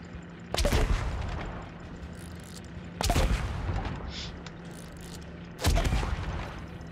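Three loud booming naval gun salvos from ships in the World of Warships video game, spaced a few seconds apart, each a sharp blast fading into a long rumbling tail.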